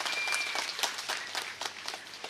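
An audience at a temple foundation-stone ceremony claps together, a dense, even patter of many hands at moderate volume with no voices over it.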